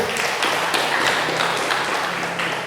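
Dense, continuous applause from a crowd, a steady wash of many hands clapping with no voices rising above it.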